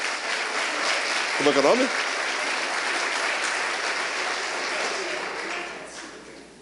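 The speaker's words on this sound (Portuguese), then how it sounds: "Vamos aplaudir Jesus." A church congregation applauds steadily as a dense, even wash of clapping, with a brief spoken question breaking through near the start, then the clapping fades toward the end.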